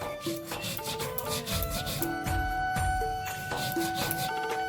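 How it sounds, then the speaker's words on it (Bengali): Rice being ground into a paste for mustard-flower fritters, heard as steady rough rubbing and scraping strokes repeating throughout, with faint tonal sounds in the background. "সবগুলো বড়া করার জন্য চালটা বেটে নেব"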